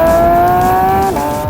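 A Porsche 992 GT3 engine with a new loud exhaust wails at high revs with a sharp, steady note up close, then briefly dips in pitch as it shifts.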